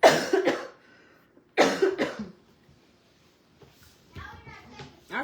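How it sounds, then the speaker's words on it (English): Two loud, harsh coughs close to the microphone, each a quick cluster of bursts, separated by a pause, followed by quieter murmuring sounds. "I still got this cough"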